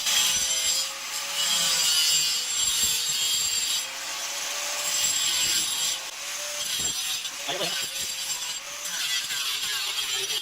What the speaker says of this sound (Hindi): तो यहाँ पर इसको बहुत सावधानी से ये केसिंग को हमें काटना है।